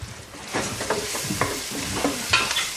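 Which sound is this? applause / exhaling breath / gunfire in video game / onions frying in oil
onions frying in oil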